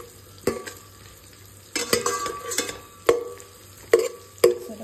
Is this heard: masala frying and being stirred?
yes